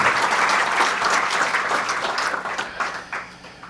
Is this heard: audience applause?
yes